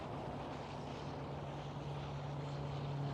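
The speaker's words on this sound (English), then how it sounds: "You can see all the arriving aircraft, you can see quite a lot of the departing aircraft" A steady, distant airliner drone with a low engine hum hangs over faint wind noise as aircraft arrive at Amsterdam Schiphol airport, with no talk.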